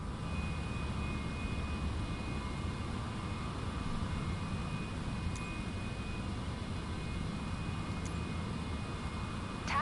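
Cessna Citation 750 jet taxiing to general aviation parking in Microsoft Flight Simulator 2024, a steady low engine rumble and whine holding at an even level throughout, with no talk.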